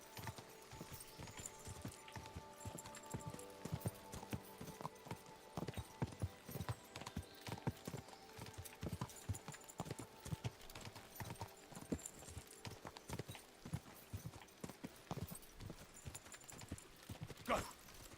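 Horse galloping in the video game Kingdom Come: Deliverance II, a fast, steady clip-clop of hooves that continues unbroken and fairly close, with no talk.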